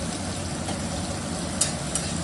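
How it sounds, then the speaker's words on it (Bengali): Onions deep frying in a generous amount of oil for a katla kaliya fish curry, a steady close sizzle with faint stirring clinks and no talking. "আর একটু তেল দিলাম যাতে পেঁয়াজগুলো একটু ডিপ ফ্রাই হয়ে যায়।"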